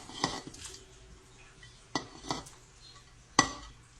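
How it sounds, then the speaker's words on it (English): Grilled ginger and onions being mixed in a pan, a few sharp utensil clinks and scrapes against metal over a faint low sizzle, with no talking. "we're going to do our ginger and our onions that we grilled earlier on the video. We're going to mix it up"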